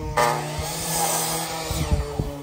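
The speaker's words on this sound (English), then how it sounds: "you're sanding them?" Steady grinding whir of a power sander on wood, fairly close, running continuously with a few scraping bumps toward the end.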